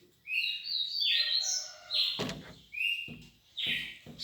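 A caged trinca-ferro (saltator) songbird sings several clear, loud whistled phrases close by. Sharp clacks and knocks sound between the phrases, and there is no talking.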